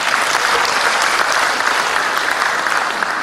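Applause fills a large hall at a national ministry coordination meeting: a dense, loud, sustained clapping crowd that holds evenly for several seconds without a break.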